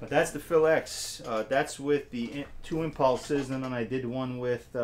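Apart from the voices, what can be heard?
No everyday noises stand out.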